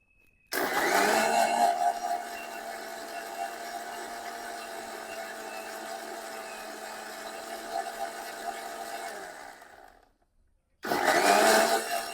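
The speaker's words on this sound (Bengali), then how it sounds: "চলো এবার ভালো করে মিক্সিতে ঘুরিয়ে নিই" A mixer grinder blends mango lassi made with sugar in a loud, steady whirring drone for about ten seconds, then cuts out briefly and restarts with a second burst.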